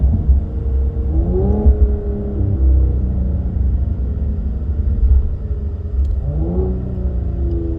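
Cadillac CT5-V engine in manual mode revving up in two sharp rising sweeps during downshifts, over a steady loud low rumble of the running car, heard from inside with no talking.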